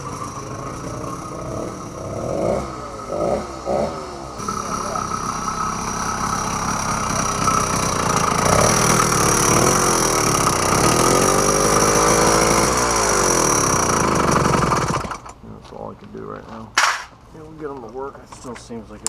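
Small 80cc two-stroke engine on a motorized bicycle running lean with a dragging clutch, buzzing loudly and steadily with revving swells before cutting out into sputters near the end.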